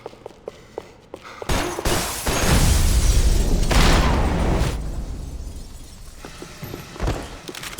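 Glass shattering loudly in a gunfight in the video game Max Payne 3, a sustained crashing burst of breaking panes and debris lasting a few seconds amid scattered gunshot pops, then tailing off.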